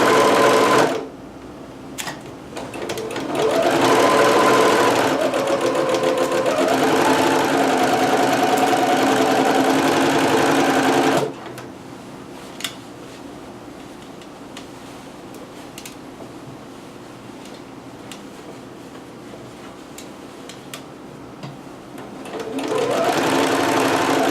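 A home sewing machine stitches a McCall's M6701 dress in loud, steady bursts of rapid mechanical whirring, stopping for a long quiet stretch before starting up again near the end.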